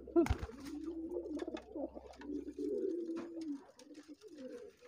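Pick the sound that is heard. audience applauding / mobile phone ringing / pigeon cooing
pigeon cooing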